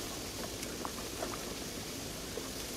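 Sauce for a Mexican street corn lasagna simmering and reducing in a pot, a steady soft bubbling with faint scattered pops, quiet and continuous throughout.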